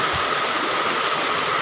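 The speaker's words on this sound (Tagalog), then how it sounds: "Ang lakas na naman ng ulan." Heavy typhoon rain pours down in a constant, loud roaring hiss with no letup, dense and close, and no voices are heard over it.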